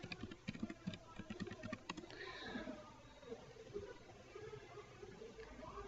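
Someone types a password on a computer keyboard, with quick, faint key clicks for about two seconds, then quieter room noise and soft, indistinct voice beneath.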